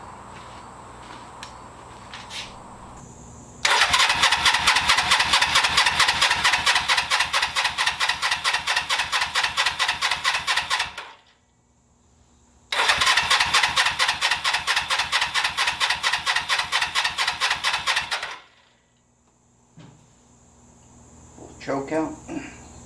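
A 1982 Suzuki GS300L motorcycle engine, just after a carburetor clean, is cranked over in two long loud starter bursts of about seven and five seconds, each a steady rapid chugging that stops abruptly, with quiet gaps and faint background noise between.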